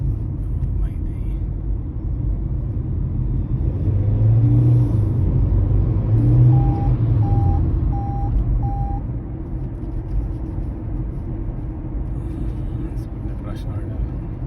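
A steady low rumble of rush-hour road traffic heard from inside a car on an afternoon drive from Stoke train station, a continuous engine and road drone with a faint tone beeping briefly partway through.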